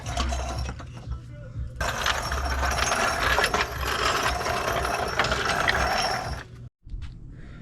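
A ratchet works loose the bolts on a Subaru subframe, giving a steady clicking, grinding buzz that runs for several seconds close by, then stops abruptly.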